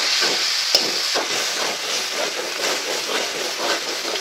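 Spice masala with salt is stirred in a pan, a steady loud sizzle and hiss of frying with repeated scraping strokes and one sharp clink of the utensil.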